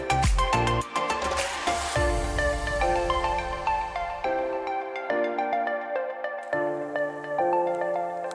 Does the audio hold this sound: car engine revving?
no